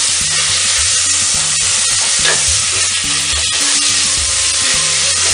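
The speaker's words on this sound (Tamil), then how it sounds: "நல்லா இந்த பச்சை வாசனை போகிற வரை நல்லா வதங்கட்டும்." Ginger sautéing in a pan sizzles loudly and steadily, with repeated scrapes and clinks of a spoon stirring throughout.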